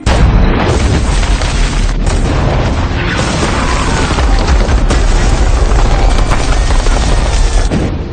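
Continuous heavy booming and rumbling like a cannon bombardment, loud and dense throughout with no pauses or voices.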